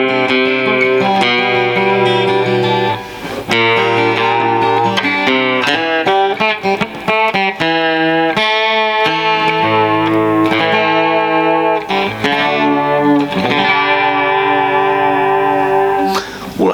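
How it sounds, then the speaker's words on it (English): Passive Encore EA 255 electroacoustic guitar played through a chorus effect, strummed chords and picked notes ringing with a shimmering, slightly distorted tone, loud and continuous with brief gaps between phrases. "Let's put the chorus on it."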